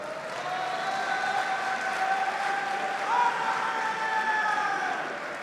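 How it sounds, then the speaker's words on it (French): A live esports event crowd applauding a team on stage at a Rainbow Six: Siege final, a sustained even wash of clapping and cheering with a faint tonal whine over it. "vous pouvez les applaudir"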